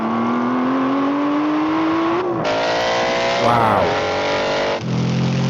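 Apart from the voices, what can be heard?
Aston Martin Vantage GT8 and GT4 accelerating in drag race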